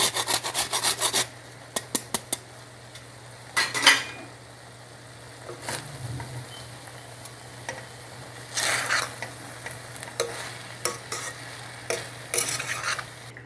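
Whole nutmeg is grated into sweet Maharashtrian coconut rice (narali bhat), giving close, dry rasping scrapes in quick clusters with short pauses between strokes, and no voices.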